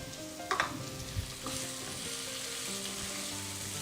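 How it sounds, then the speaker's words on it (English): Chopped tomato fries in a pan with sliced onion, garlic and green chilli, giving a steady, close sizzle with a few stirring clatters near the start. No voices are heard. "We'll fry this until the tomato softens."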